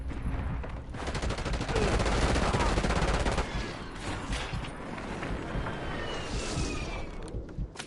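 Automatic gunfire in Call of Duty Black Ops, with sustained rapid bursts up close, then scattered shots and lighter crackling as the firing eases off.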